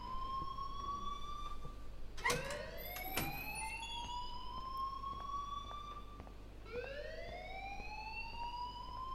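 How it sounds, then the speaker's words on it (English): A school alarm rings inside the video game Life Is Strange, a loud siren-like tone repeatedly sweeping upward in pitch, with a sharp burst near the start and a fresh rising wail later, over a steady background hum. "please turn off that alarm since that's your job"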